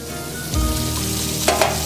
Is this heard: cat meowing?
no